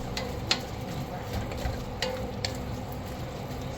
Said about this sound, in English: Keep stirring here.